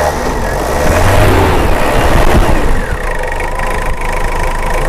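An SUV engine is revved up close in a vehicle shop, a loud mid-low engine roar that swells and eases with no talking over it.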